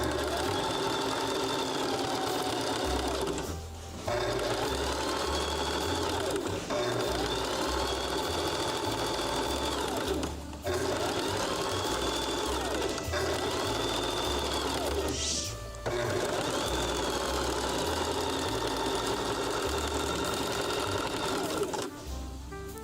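An embroidery sewing machine stitches a design in long, rapid mechanical runs, pausing briefly about every six seconds before starting up again, loud and close throughout.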